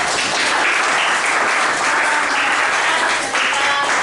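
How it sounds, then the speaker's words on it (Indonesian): Classroom of students clapping for a classmate after a reading, a loud, continuous rattle of many small hands close by, steady for several seconds with slight fading at the end. "beri tepuk tangan untuk Adito"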